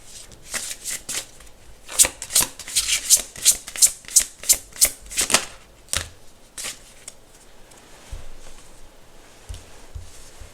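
Near and clear, a deck of tarot-style cards is riffled and shuffled in a steady rhythm of a dozen crisp flutters, then quieter shuffling and soft handling, with no voice.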